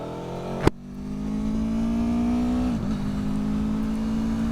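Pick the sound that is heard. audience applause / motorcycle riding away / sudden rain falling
motorcycle riding away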